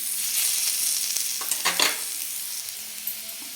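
Potato pieces roast on a hot tawa over lowered heat, giving a steady close sizzle, with a short burst of scraping and stirring near the middle.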